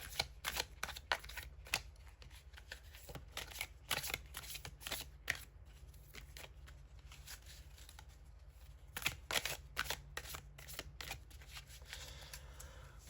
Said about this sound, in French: On va voir quelle carte on va tirer.